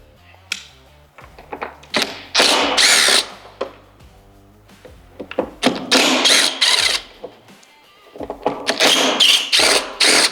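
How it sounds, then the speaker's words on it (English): Power driver unscrewing four Phillips screws from a 2014-2023 Harley-Davidson Road Glide windshield: several close bursts of whirring drill noise separated by short pauses, with no talk. "We're going to remove the windshield by removing these 4 Phillips"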